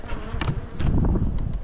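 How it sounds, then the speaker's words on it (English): A swarm of honey bees buzzing inside a space, a dense, loud, continuous droning hum close by that swells and wavers, with no voices. "that is a decent amount of bees in there"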